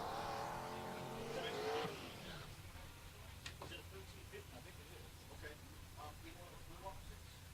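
Fox-body Mustang launching hard down the left lane of a drag strip at Pueblo Motorsports Park, a loud engine roar with tire noise for about two seconds, then fading quickly into distant crowd and track ambience.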